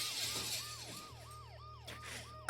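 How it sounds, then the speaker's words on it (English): Ambulance siren from the video game Dead Synchronicity, a repeating wailing sweep cycling steadily about twice per second, loud and continuous with a low engine-like hum underneath and a sharp crash at the very end. "The noise the ambulance makes."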